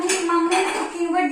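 A metal cooking vessel clanks and rings as it is picked up and set against other utensils, two short close metallic hits with lingering tones.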